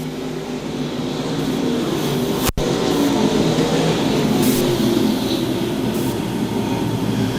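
Stock cars roar out of turn 4 at Lakeside Speedway, a dense, continuous loud engine drone with broadband rumble that holds steady throughout, no voices heard.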